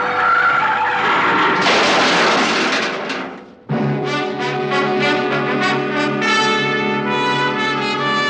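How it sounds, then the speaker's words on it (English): A car's tires screech loudly as it brakes hard, a sharp skid that cuts off abruptly before a harsh, tonal squeal resumes. "I took my foot off the accelerator and then jammed down on the brakes as hard as I could."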